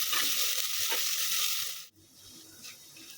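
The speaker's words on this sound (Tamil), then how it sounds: "வெங்காயம் நல்லா பொன்னிறமாக ஆகிற வரைக்கும் வதக்கிக்கிட்டே இருக்கலாம்." Chopped onions sautéing and being stirred in a pan for a fish curry, a steady close sizzle with scraping stirs that cuts off abruptly, leaving a faint quieter hiss.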